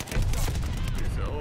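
Incendiary fire-shell gunfire in Call of Duty: Vanguard, a dense continuous burst of shots and crackling fire filling the whole short stretch at close range.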